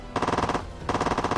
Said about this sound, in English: that cash sound effect, by the way, you're hearing is a headshot